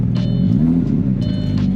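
An old, run-down car with ongoing electrical faults, its engine running with a loud, steady low rumble that sounds rough and mean, close by with no talking over it.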